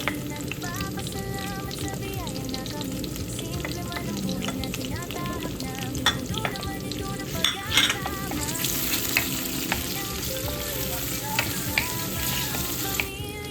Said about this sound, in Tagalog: ito guys yung niluluto namin ang bagoong